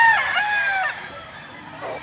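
A rooster gives a short crow that fades into softer clucking, close by and fairly clear, with a faint rustle in the background.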